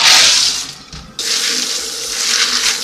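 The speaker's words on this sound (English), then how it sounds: "So what I'm going to do now is drain the water out of them" Soaking water drains from beans into a sink in a loud, close, continuous splashing pour, with a brief break near the middle before the flow resumes.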